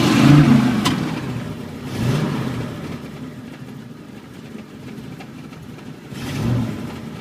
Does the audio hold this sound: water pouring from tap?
no